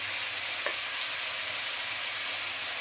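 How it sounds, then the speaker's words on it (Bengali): Masala of chili powder and coriander powder frying in a pan for a Bengali fish-head dish, a steady close sizzle with no talk. "এখন মশলাটাকে ভালোভাবে কষিয়ে নেব।"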